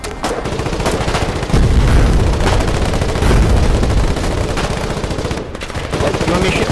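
Dense gunfire rattles through a Foxhole video game battle in the streets of Old Sunhaven, with overlapping rifle and machine-gun bursts and occasional heavier booms forming a loud, continuous barrage. Faint voices may sit underneath.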